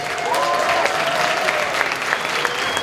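Applause from an audience at a live improv Dungeons & Dragons show at an anime convention, a dense steady wash of clapping with some whoops over it, lasting the whole stretch.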